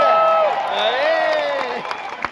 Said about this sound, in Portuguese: Por favor, cumprimentem a todos com aplausos